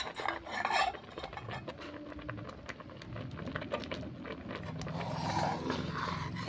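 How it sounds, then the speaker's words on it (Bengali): Gobindobhog rice payesh with cow's milk and raisins stirred in a pot: a spoon scrapes and swishes around the pot in repeated close strokes, with light metallic knocks. "বারবার নেড়ে নিচ্ছি।"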